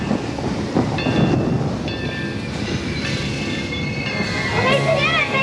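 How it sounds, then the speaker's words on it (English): A train rolling on rails with rhythmic clatter and high metallic squeals as it brakes, a loud continuous rumble throughout. "They stopped the train!"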